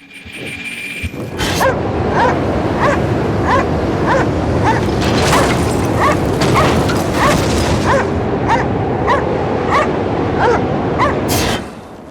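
Dog in the Cryostasis video game barking in a steady run of sharp yips and whimpers, loud and close, lasting about ten seconds over a dense, noisy background.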